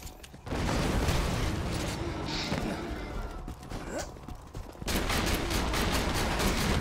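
Grenade blasts and gunfire in the Borderlands 2 shooter, dense and continuous with repeated bursts throughout, a brief dip before a loud renewed surge near the end.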